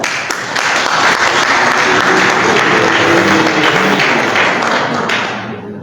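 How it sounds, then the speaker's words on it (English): A crowd applauds a bishop being honoured at a legislative retreat in Margibi County, sustained loud clapping that swells in and holds steady for several seconds before beginning to taper. "Please applaud him."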